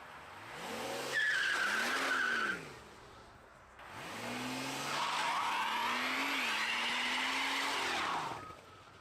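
Car engine revved in dyno mode, rising and falling in two long swells with a whining, climbing pitch, loud and close with no talk.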